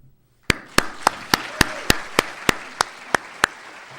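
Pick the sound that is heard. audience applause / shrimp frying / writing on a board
audience applause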